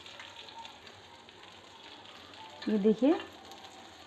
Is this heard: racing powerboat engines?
no